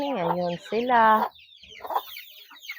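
Chickens cluck loudly and close on a rural Philippine farm where pepper is being harvested, two drawn-out calls followed by fainter clucking, with a person speaking briefly.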